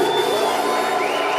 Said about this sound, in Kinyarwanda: Hanyuma mumereze Kenzo amashyi menshi cyane.